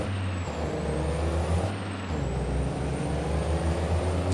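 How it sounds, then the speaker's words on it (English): A Mack truck's engine brake in Farming Simulator 22, a steady, close rumbling drone with deep low throb that holds for several seconds and dips briefly partway through, with no talking. "the Jake brakes is like really cool"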